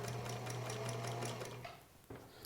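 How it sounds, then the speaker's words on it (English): A sewing machine runs with a steady whirring hum for over a second, then stops, leaving a quiet pause and a faint click. "I'm going to sew them with a very accurate 1/4 inch seam"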